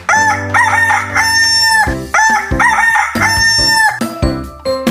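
Repeated rooster-like crowing calls, loud and close, with several long drawn-out cries separated by brief gaps, sounding somewhat musical or synthesized.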